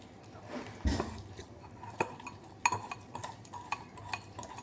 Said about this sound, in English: Just whisk that in.